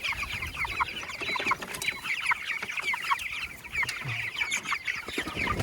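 Broiler chickens out on pasture chirp loudly and continuously, a dense flock of overlapping high calls with scattered clucks, close by and steady throughout with no talking.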